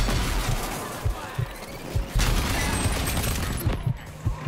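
Grenades going off in the shooter Rage 2, a series of sharp thuds and blasts scattered over steady combat noise, with one louder crack partway through.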